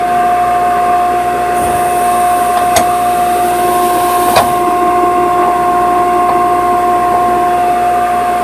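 An air compressor runs steadily while pressurizing, giving a loud, constant mechanical hum with a sustained tonal whine and a couple of sharp clicks partway through.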